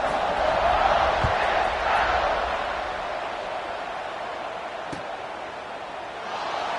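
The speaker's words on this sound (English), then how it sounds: "this crowd is buzzing after that last score" Football stadium crowd buzzing after a score, a steady broad murmur of many voices that swells early on, then settles into a sustained roar with a sharp thump near the end.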